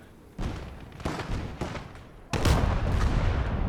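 Gunfire in the Gates of Hell: Jubilee video game comes as several booming shots in irregular succession, with a louder, heavier blast near the end over a rumbling battlefield background.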